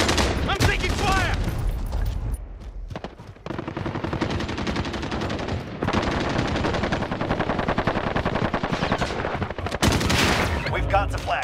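Gunfire in a Call of Duty Modern Warfare multiplayer match, loud rapid bursts of automatic fire with dense rattling volleys, a brief lull, then more sustained shooting, with voices calling out over the fire.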